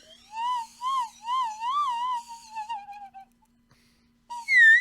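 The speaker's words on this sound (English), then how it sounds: "Or we could do just like a slide whistle" A slide whistle played live on a podcast, its pitch gliding up and down in several wavering swoops, then trailing off before a short, loud rising blast at the end.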